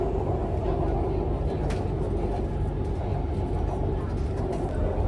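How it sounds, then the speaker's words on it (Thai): A steady low rumble of a BTS Skytrain rolling along the rails into Ha Yaek Lat Phrao station in Bangkok, continuous and fairly loud, with no clear stops or announcements. "ตอนนี้รถไฟกำลังเข้าสู่สถานี ห้าแยกลาดพร้าวแล้วนะครับ"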